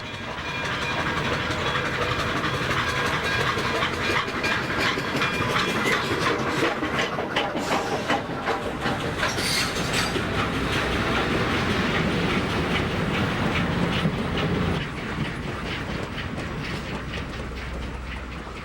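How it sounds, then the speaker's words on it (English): Southern Pacific Daylight steam passenger train racing through farmland, a loud, steady roar of rolling wagons with rhythmic clickety-clack and engine rumble throughout, heard close and continuous. "The daylight races through rich farmland as it heads out of the Bay Area."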